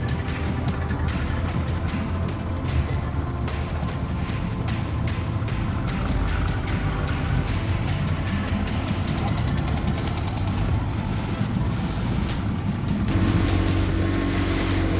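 A motorboat engine chugs steadily and loudly with a knocking rhythm, then its tone rises as it picks up speed heading out to sea.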